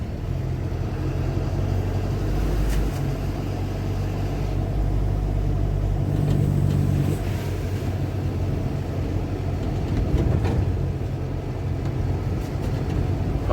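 Steady low engine rumble and road noise from a car driving along a road beside the lake at a dam, continuous and fairly loud with no talking.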